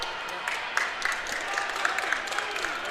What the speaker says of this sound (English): We got some Wisconsin fans to our left giving applause to the Badgers